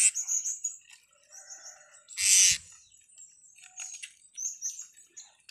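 A young serindit, the blue-crowned hanging parrot, makes thin, high chirps and short trills in a quiet setting, with one louder burst of noise midway and faint repeated calls around it.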